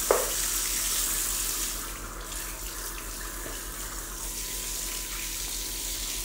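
Fish is rinsed under a running tap, a steady splashing gush of water into a sink that holds at an even level throughout, close and clear with no talking.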